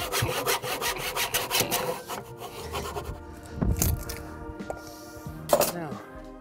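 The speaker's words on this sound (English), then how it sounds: "I'm just using a fine tooth saw. This is actually a cheat. This is my PVC saw for plumbing, but it comes in so handy with softwood lumber." A fine-tooth PVC plumbing saw cuts through a softwood deck board with rapid, rhythmic back-and-forth strokes, close and fairly loud, then pauses before a brief scrape and a short burst of further sawing.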